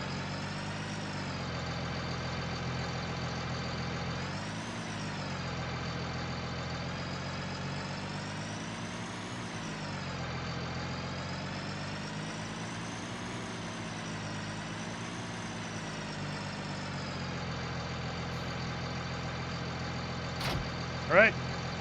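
A big New Holland T7 tractor engine in Farming Simulator 19 drones steadily at idle and low revs, the pitch rising and falling gently. It stays constant and close throughout, with a short knock near the end.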